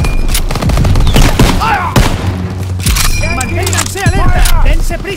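Gunfire in the video game Call of Duty: WWII, loud rapid shots and thuds over a dense battle din, with voices shouting through it.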